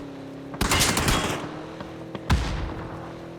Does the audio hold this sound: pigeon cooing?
no